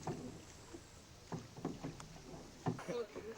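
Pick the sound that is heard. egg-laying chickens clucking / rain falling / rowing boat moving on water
rowing boat moving on water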